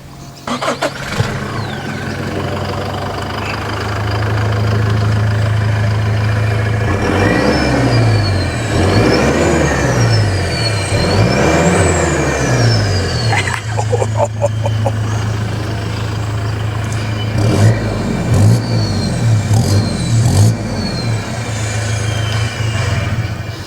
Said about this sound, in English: they did the exhaust same time they did the tune and the auto lockup, and it all turned out absolutely magical. Plenty of power, sounds awesome.